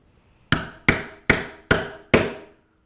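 Five sharp hammer blows on a metal punch driving through the end of a leather backpack strap, evenly spaced about half a second apart, loud and close with short decays and no voices.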